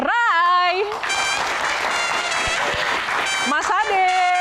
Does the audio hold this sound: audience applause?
yes